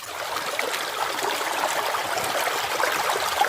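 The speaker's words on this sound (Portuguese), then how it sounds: "um fluxo de água correndo" Water running in a stream through a flooded, swampy cemetery alley in Russia, a steady close rushing and trickling with no voices.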